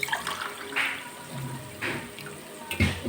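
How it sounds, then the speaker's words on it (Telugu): Water poured into a cooking pot for making upma, a few splashy pouring bursts near the mic with no talking. "ఇప్పుడైతే వాటర్ అయితే వేసేసుకున్నాము."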